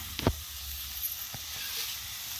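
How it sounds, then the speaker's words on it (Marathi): Green chilies frying in oil for a spicy village-style dal mirchi, a soft, continuous sizzle close by, with a couple of brief clicks from the pan or spoon and no voices. "तेला तळावं लागते मिरची"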